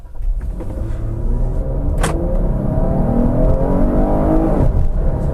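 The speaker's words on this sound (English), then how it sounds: "quick acceleration pull in the Jeep Cherokee Trailhawk" A 2015 Jeep Cherokee Trailhawk accelerates hard on the road, its engine note climbing in pitch over a steady loud rumble for several seconds, heard from inside the cabin with no talking.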